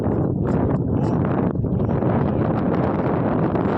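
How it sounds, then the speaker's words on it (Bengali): Steady cool wind off the water at the Mukutmanipur reservoir, a loud continuous rush buffeting the microphone with gusts and rustle, no voices. "এইখানকায় বাতাসটা দেখ, আহা দারুণ দারুণ।"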